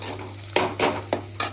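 Ginger garlic paste drops into onions already frying to a reddish brown, giving a steady sizzle broken by a few sharp scrapes of stirring, close and moderately loud with no talk.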